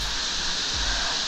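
Steady, loud rush of a waterfall at Mitchell Falls in the Kimberley, a continuous broadband roar filling the whole clip with no pauses.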